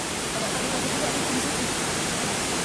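Steady broadband roar of rushing water at Laumarang waterfall, a dense, unbroken wash of sound filling the whole stretch at even loudness with no clear voices.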